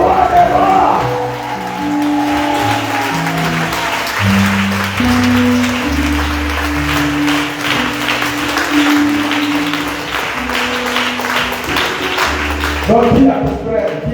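A church congregation claps and cheers loudly and continuously in worship, with music and voices blended into the sustained applause throughout.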